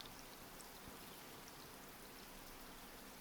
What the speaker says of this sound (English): Now we can enjoy the rain.